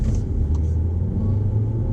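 A 2019 Seat Ateca FR SUV accelerates hard, its engine giving a steady deep rumble heard from inside the cabin, continuous and fairly loud with no talk.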